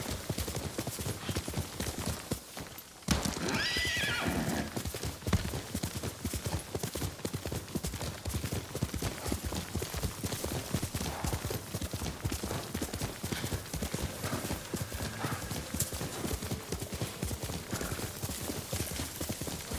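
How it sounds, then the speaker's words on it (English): Steady clip-clop of horse hooves trotting continuously at an even pace, close and prominent throughout, in the video game Ghost of Tsushima. "Good horse, Kage."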